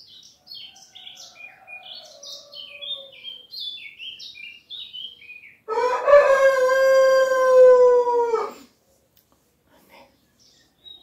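Forest birds chirp and twitter in quick bursts, then a long, loud harmonic call rings out before things fall quiet.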